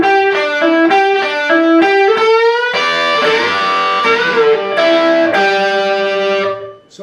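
Distorted electric guitar plays a lead lick from the Black Crowes' Jealous Again solo, quick picked notes and pull-offs with ringing strings, loud and alone, fading at the end.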